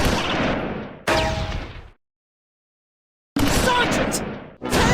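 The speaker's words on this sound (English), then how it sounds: "Radica's Stewart is bouncing rounds off the second." Heavy tank cannon fire in a Close Combat 4 battle from the Battle of the Bulge, with loud, close booming blasts that decay into rumbling, a gap of silence, then more blasts.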